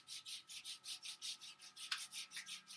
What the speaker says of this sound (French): on va frotter le dessus du bras